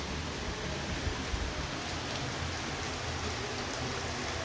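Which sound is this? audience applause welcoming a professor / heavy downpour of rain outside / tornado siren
heavy downpour of rain outside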